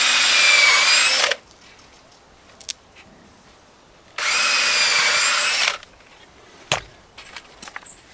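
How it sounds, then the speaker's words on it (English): A power drill whines loudly in two bursts of about a second each, pre-drilling holes in timber, separated by quiet pauses with faint knocks and handling noise. "I am pre-drilling all the holes in this timber"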